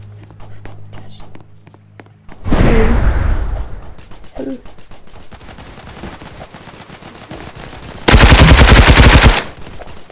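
Rapid bursts of gunfire from a Roblox Hypershot match crackle in dense automatic streams, with a loud heavy blast midway and another sustained loud burst near the end, footstep-like clatter between.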